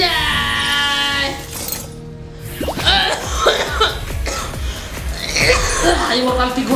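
A man coughs during a Mobile Legends match, a few rough bursts in the middle of the moment with game sounds and music going on around them.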